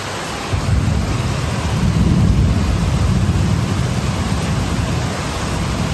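Heavy rain pours down in a city during a storm, a loud, dense roar of rainfall with a low rumbling undertone, steady and unbroken with no voices.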